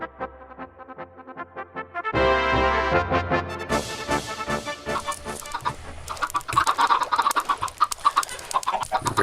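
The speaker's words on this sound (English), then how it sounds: "I was waiting for some of the chickens to grow up and start laying eggs." Chickens cluck in a Minecraft farm build with an automatic coop and cooker, their clucks repeating through the clip over a steady game music bed that thickens midway.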